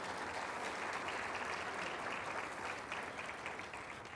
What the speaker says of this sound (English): please, a round of applause for the Ralph C.